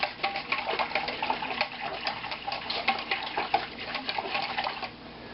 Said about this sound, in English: we're going to whisk it up, make sure it gets nice and mixed